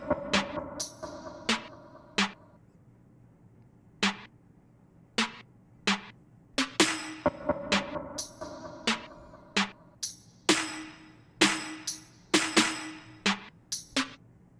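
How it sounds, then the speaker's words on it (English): Pre-chorus percussion layered with two melodic snares building toward a chorus: crisp, close hits in an irregular rhythm with pitched snare tones, growing denser and louder in the second half, no voices. "this is some percussion, which is on the pre-chorus to introduce the chorus"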